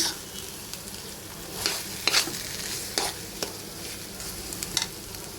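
Soft sizzling of dried fish and banana stem frying in a pan, punctuated by a few scraping stirs and light utensil clinks, fairly quiet and close.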